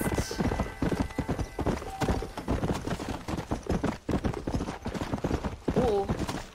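Horse hooves clip-clop in a steady walking rhythm in Red Dead Redemption's Undead Nightmare, close and clear, with a brief whinny-like tone near the end.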